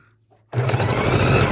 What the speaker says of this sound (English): And we just sew up